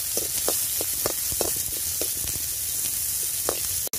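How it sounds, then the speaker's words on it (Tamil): Onions sizzle steadily in a hot pan for kanchi, a continuous bright frying hiss with soft stirring scrapes and taps recurring every half second or so, close and fairly loud, with no talking. "இப்போ இதோட வெங்காயம் சேர்த்துக்கலாம் பெரிய வெங்காயம் சின்ன வெங்காயத்தையும் சேர்த்துக்கலாம் கொஞ்சம் ப்ரௌனிஷாக வரட்டும்"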